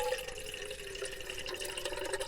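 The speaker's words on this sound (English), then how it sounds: "just pop your water in there like so" Water is poured into a stovetop kettle inside a camper van, a short, steady trickling fill heard up close with no talking.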